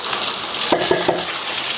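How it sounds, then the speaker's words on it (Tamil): Rice sizzles and fries in hot ghee with a steady bright hiss, broken by three quick spoon-stirring scrapes near the middle, close and loud with no talking. "அந்த நெய்யில் வந்து இந்த அரிசி வறுக்கணும்."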